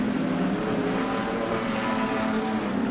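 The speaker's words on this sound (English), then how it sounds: "Here comes Clark yet again as they move down into turn number 2." Street stock race cars roar around the Adelaide Motorsport Park circuit in a national title heat, their engines forming a continuous loud drone under a commentator's steady race call.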